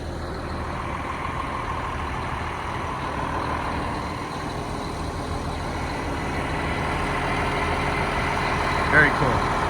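A Condor 150 truck with a Detroit engine idles in a low, steady rumble that holds for several seconds, with voices faintly in the background.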